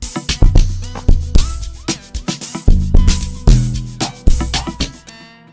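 A deep, punchy amapiano log drum plays a syncopated pattern within an electronic beat, its booming notes ringing out longer in places before the sound cuts off.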